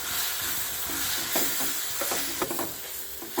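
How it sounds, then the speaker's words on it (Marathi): Coriander powder, turmeric, red chilli powder and black masala are sautéed in a pan for cashew curry, a quiet sizzle under irregular stirring scrapes and light knocks. "धनेपूड हळद लाल तिखट काळा मसाला हे आपण छान परतून घेऊया"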